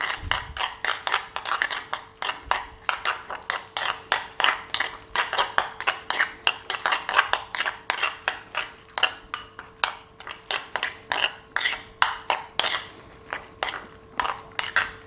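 Ingredients with spring onion and nori being mixed in a bowl, a steady run of rapid clinking and scraping strokes of a utensil against the bowl, close and continuous with no talk.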